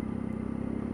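A motorcycle engine rumbles inside a tunnel with a steady, throbbing exhaust note, close and continuous for a second, its pulsing beat echoing off the walls.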